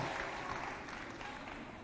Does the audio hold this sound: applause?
yes